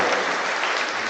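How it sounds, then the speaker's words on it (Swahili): Congregation at a church service applauding, a dense steady wash of many hands clapping close by, even in loudness throughout with no voices standing out. "Wapigie makofi mazuri."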